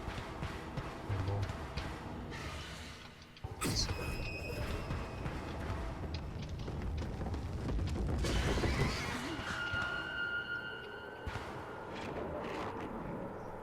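A horse neighs within the horror video game Mouthwashing, its whinny rising over a dense, rumbling game soundscape with a tense, droning atmosphere, while someone talks excitedly throughout.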